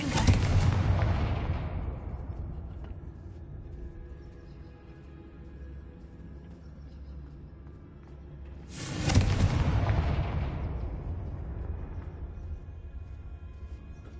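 Two heavy booming blasts of the Confringo fire spell in Hogwarts Legacy, each a sharp loud impact followed by a long rumbling decay, spaced several seconds apart.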